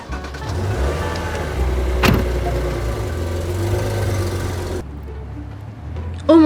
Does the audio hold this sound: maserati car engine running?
yes